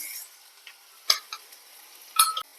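Crushed shallots and garlic go into a pan for a curry, giving faint scattered crackles and a few sharper sizzling pops and clinks against near silence.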